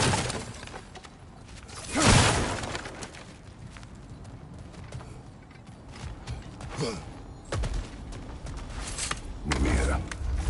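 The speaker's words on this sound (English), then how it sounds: "back to smashing through things for fun and profit." Breakable objects smash and shatter in the God of War Ragnarok video game, with a loud crash near the start and further cracking, creaking impacts later over a busy game soundscape.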